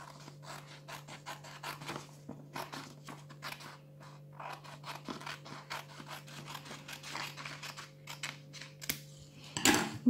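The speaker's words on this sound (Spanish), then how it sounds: "Pues esta parte la cortamos." Scissors cut through paper for a small bird craft, a series of close, crisp snips in quick runs with short pauses between them, over a low steady hum, no talking.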